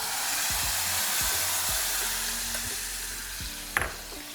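Spinach dal tempering with asafoetida sizzling steadily in hot oil, a continuous loud frying hiss with a brief sharper crackle near the end.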